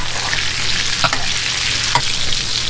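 Ribeye steak sizzling loudly in a hot pan while being basted, with a constant dense frying hiss and a few spoon scrapes and clinks, close up with no talk.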